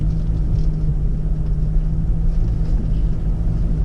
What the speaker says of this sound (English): Ford's all-wheel drive SUV, off-road using the all-wheel drive system